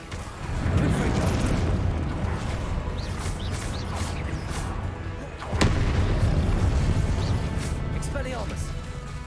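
Incendio and Expelliarmus spells cast in the video game Hogwarts Legacy, a sustained roar of rumbling magical impacts with a sharp crack midway and swelling bursts, under a voice.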